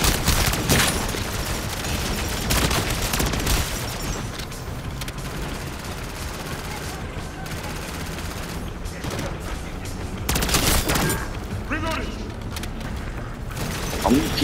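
Weapon fire in Call of Duty MW3 Zombies, bursts of shots at the start and again around ten to twelve seconds with mechanical clicks and reload rattles between, under occasional talk from a player.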